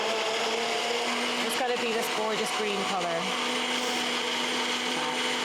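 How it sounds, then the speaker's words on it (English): A kitchen blender whirs steadily as it purées a green lentil mixture, a continuous loud motor drone throughout with a brief change in pitch midway, while someone talks over it. "This blender has done so much work in its life."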